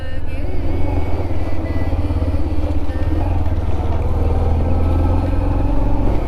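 A 125cc motorcycle riding through clouds on a pine-lined mountain road, its engine droning loud and steady up close with a continuous low rumble and wind.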